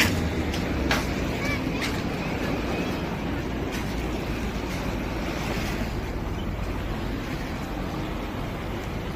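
Ocean surf rolls onto a wide, busy sandy beach in Hong Kong, a steady broadband wash of breaking waves with wind buffeting the microphone, continuous and fairly loud with no talk.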